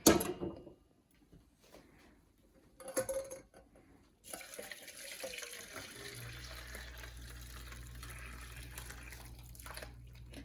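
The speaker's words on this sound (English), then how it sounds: "So at this stage we have to start straining out and separating the water and paneer." Whey from curdled milk poured off through a strainer while making homemade paneer, a steady trickling and splashing of liquid that runs continuously for several seconds after a few brief knocks and clatters, close and moderately loud with no talk.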